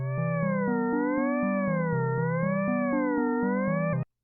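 An Ableton Operator FM synthesizer patch drones in stepped notes with a slow, wavering pitch wobble, steady and alone, then cuts off abruptly.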